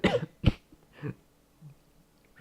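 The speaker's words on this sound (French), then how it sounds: "Je tousse souvent." Several short, husky coughs and throat-clearing sounds from one person, close to the microphone, spaced out with brief quiet gaps between them.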